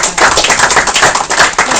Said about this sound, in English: I think we owe you a big round of applause.